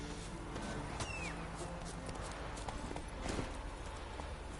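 Horse hooves clip-clopping at a steady walk in The Witcher 3, moderately quiet and continuous beneath ambient game sound and music.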